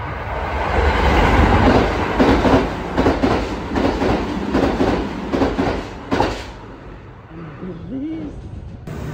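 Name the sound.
train arriving at station in Japan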